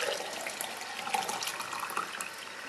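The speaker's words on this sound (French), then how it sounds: "Et on verse de l'eau comme tout à l'heure." Water pours steadily into a jug holding lemon and fresh garden mint, a continuous close splashing and gurgling stream lasting a few seconds with no talk.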